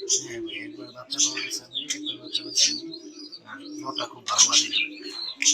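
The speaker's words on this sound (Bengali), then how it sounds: "এখানে আমরা এক জোড়া ইন্ডিয়ান লুটন কবুতর দেখতে পাচ্ছি" A pair of Indian Lotan pigeons coo nearby in low, repeated throaty rolls, with sharper chirps from other birds above and someone speaking intermittently.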